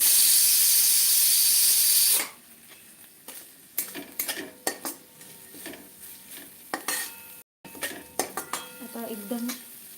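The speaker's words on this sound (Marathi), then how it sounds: "कुकरमधली हवा काढून घेऊयात आपण" Steam hisses loudly from a kitchen pressure cooker as its air is released for about two seconds, then gives way to clinks and scrapes of metal utensils and pots with brief gaps.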